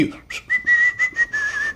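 A person whistles a short, lilting tune of several bright sustained notes and quick breaks, close and clear with no talking.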